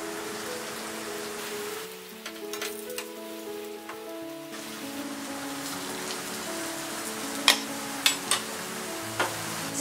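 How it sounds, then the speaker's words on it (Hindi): Hash browns shallow frying in a pan over a medium flame, a steady, rain-like crackle and sizzle with scattered sharper pops toward the end, under a faint tonal background. "हमने 5 मिनट तक इसे मीडियम फ्लेम में फ्राई कर लिया है, शैलो फ्राई।"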